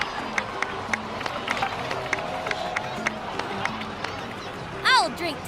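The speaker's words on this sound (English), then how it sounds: "please give another round of applause for them" A crowd claps and cheers steadily in a busy background in the video game Genshin Impact, with a brief rising electronic chime near the end.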